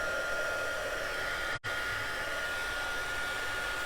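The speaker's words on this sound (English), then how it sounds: "Okay, heat tool. Gonna put it on to" Heat embossing tool blows a steady, constant hot-air whoosh, broad and hissy, with one abrupt split-second dropout midway; no one talks.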